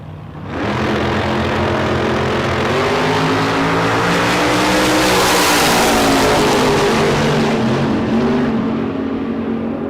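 A Chevy Nova Super Pro door car revs hard at a drag strip during a bracket racing event, its engine roaring loud and close for several seconds, swelling and then holding steady.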